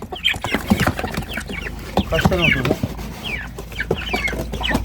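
Several chickens cluck close by in a busy, uneven chatter, with a person speaking briefly among them.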